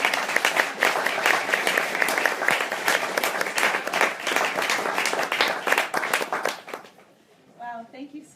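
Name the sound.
audience applause welcoming author at bookstore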